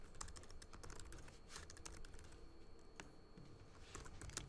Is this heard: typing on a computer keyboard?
yes